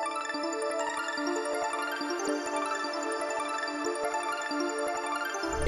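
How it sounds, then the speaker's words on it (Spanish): A synth arpeggio built with Analog Lab in FL Studio runs continuously in a dense, bright texture of rapid repeating notes with a soft pulsing undertone, steady and unaccompanied by voices. "el ARP que hicimos acá arriba con este Analog Lab"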